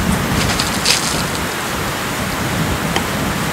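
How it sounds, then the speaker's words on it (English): Heavy rain pours as a loud, steady sound effect under a parody weather report, a dense continuous wash of downpour with wind and no talking. "there is very heavy rain and the wind is so strong,"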